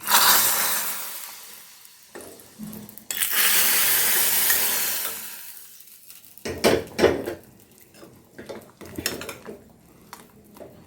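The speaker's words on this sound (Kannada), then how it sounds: "ಇದಕ್ಕೆ ತುಪ್ಪ ಸಾಸಿವೆ ಮತ್ತು ಇಂಗು ಹಾಕಿರೋ ಒಂದು ಸ್ಪೆಷಲ್ ಆಗಿರೋ ಒಗ್ಗರಣೆ ಹಾಕ್ತಾ ಇದ್ದೀನಿ" Two bursts of loud hissing sizzle, one short and one longer, as a tempering of mustard seeds and asafoetida in hot ghee goes into rasam, followed by clinking and scraping of utensils against a pot.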